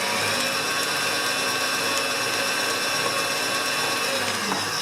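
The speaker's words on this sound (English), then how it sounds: "1 little more mix to go, just to move that xanthan gum through." An electric mixer blending gluten-free, sugar-free cheesecake batter with xanthan gum, a steady, dense whirring hum running close and unbroken, with no talk.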